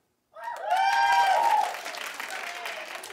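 A studio audience bursts into clapping and whooping, mostly women, for a clap poll about a celebrity; the loud burst of applause and cheers rises sharply, then settles into steadier clapping.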